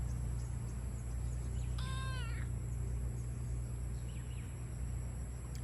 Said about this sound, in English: I found the kitty cat